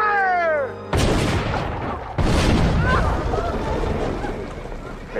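A gunfire volley in a western film: two heavy, booming blasts about a second apart, each trailing off in a long echoing rumble, preceded by a brief tonal sound.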